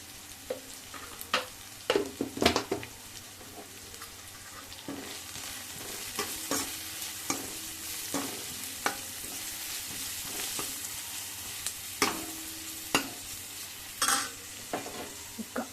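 Ginger paste and turmeric fry in hot tempering oil for a Telugu fish curry, giving a steady close sizzle. A spoon stirs through the pan with frequent scraping strokes.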